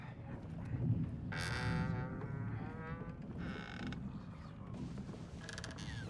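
A door creaks open in the horror video game The Evil Within, drawn-out groaning hinge squeals in several slow bursts over a low ambient rumble, with no talk.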